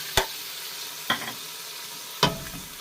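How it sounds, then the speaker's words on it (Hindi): Tomato paste and spices frying for a kidney bean curry, heard as a quiet background sizzle broken by three sharp scraping stirs of a spoon in the pan, spaced about a second apart. "इनको थोड़ी देर के लिए भून के 2 मिनट के लिए भून के"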